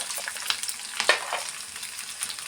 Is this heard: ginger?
yes